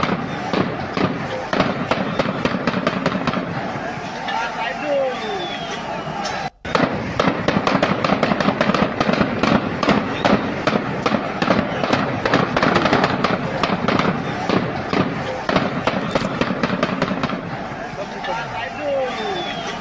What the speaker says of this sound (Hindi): गोलियों की आवाज सुनिए रोकने के लिए।